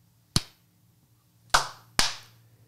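Three sharp single claps, the first alone and the next two in quick succession about half a second apart, each crisp and close with a short decaying tail over a faint low hum.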